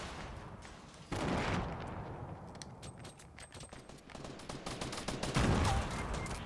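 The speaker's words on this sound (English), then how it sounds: "Yeah, he's shooting me." Rapid bursts of gunfire in a Fortnite Battle Royale match at Tilted Towers, sharp repeated shots in clusters with loud stretches, heard alone without talk.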